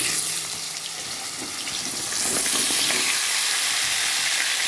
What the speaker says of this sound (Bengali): তেলটা গরম হয়ে গেছে, একটু হলুদ দিয়ে দিচ্ছি যাতে না ছিটকায়। পটলগুলো এক এক করে ছেড়ে দেব।